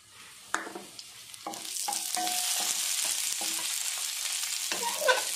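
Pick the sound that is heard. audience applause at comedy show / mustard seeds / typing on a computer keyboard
mustard seeds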